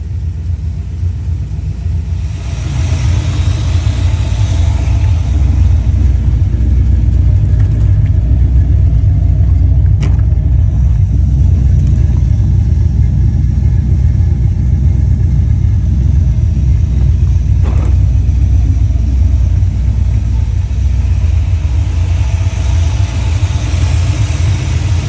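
A car engine, freshly converted to a roller setup, runs steadily in a loud, deep idle rumble with a slightly uneven note, continuous and close throughout.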